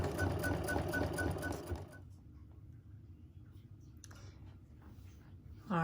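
An embroidery machine stitches a design in the hoop, buzzing loudly for about two seconds, then falling to a quieter hum with faint clicking and a final burst of sound.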